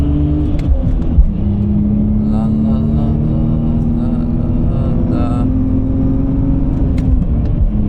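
BMW E46 328i engine at full throttle on the Nürburgring, a loud sustained drone with a rising tone as revs climb, plus brief clicks and road noise, and no voice over it.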